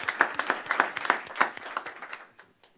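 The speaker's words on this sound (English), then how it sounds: "We're going to give a hand clap to Xavier." Brief clapping from a small audience at a school board of education meeting, a scattered burst of hand claps that thins out and fades to near silence by the end.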